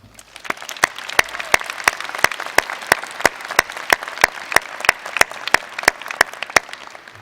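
Graduates at a business school commencement clap, though the sound is a single sharp, evenly spaced clap repeating about three times a second, close and distinct over a faint room hum.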